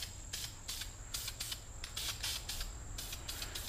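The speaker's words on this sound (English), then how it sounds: "so let me just spray a little more here." A spray paint can sprays a coat onto a car wheel in short hissing bursts, close and steady, repeated several times in quick succession with brief pauses between.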